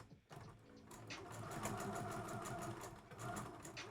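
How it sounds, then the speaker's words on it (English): Sewing machine stitching fabric for a child's dress, a steady fast mechanical whirr and clatter running throughout at a fairly quiet level, alone with no talking. "So you're going to stitch a couple of stitches, and then you're going to back stitch."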